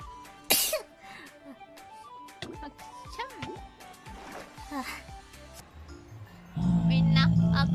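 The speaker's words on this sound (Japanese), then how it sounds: "みんなくしゃみでる。" Sneezes from VTuber streamers, one sharp burst near the start followed by smaller sneezes and throat sounds mixed in with chatter and exclamations, with a louder noisy stretch at the end.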